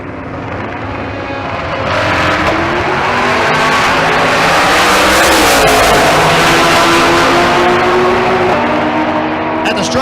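Drag race launch at Bandimere between a 1973 Camaro and a Nissan GTR in the limited street category, with loud engines roaring and revving as the cars pull away. The noise builds into a sustained, close roar that carries through to the end.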